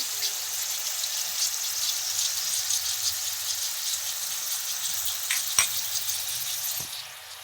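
Cumin and garlic paste sizzles hard in a hot pan, a bright, constant hiss with a few scraping knocks of a spatula stirring it, fading slightly at the very end.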